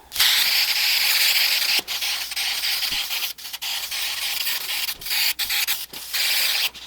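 Super 77 spray adhesive hissing from an aerosol can in a woodworking shop, loud and steady, in several long bursts broken by short pauses, with no voices.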